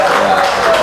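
Brief audience applause at a talk on the Bakumpai language, a short continuous wash of clapping from a crowd.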